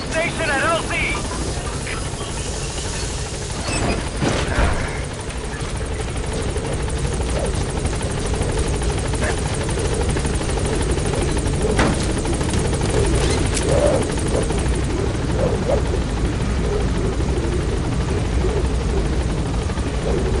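Helicopter Pequod from Metal Gear Solid 5 hovering at a landing zone, a steady loud rotor thump and engine whine that runs throughout, with a radio voice speaking over it.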